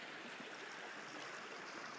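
A brook flowing beside the Pisgah covered bridge, a steady, even rush of running water filling the scene at moderate volume with no voices.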